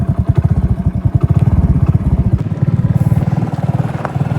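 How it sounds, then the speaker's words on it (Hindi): A motorcycle rides along with a steady, throbbing engine drone that pulses rhythmically throughout, loud and close, with no talking over it. "ये मैं जा रही हूँ बाइक पे"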